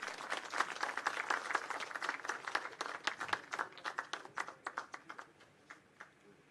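Audience applause at a police decoration parade ceremony on Jharkhand Foundation Day, dense and steady at first, then thinning into scattered separate claps near the end.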